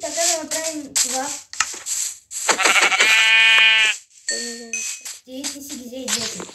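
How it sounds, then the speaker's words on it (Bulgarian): Blocky Minecraft sheep bleat several times in short wavering calls amid game sounds, with a bright chiming tone partway through and children talking over it. "Ето овца."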